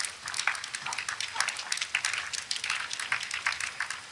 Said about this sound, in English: I'm counting the people applauding.